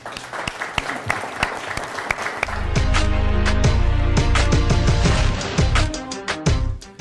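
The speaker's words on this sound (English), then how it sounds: "Let's give them a round of applause, everybody." Applause for sponsors at a small business community event, clapping from the room that continues as a loud, sustained band of music with a deep beat enters partway through and carries on under it.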